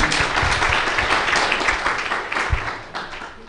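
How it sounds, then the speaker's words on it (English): A workshop audience applauding steadily, with dense overlapping claps that hold an even level throughout. "some applause, applause"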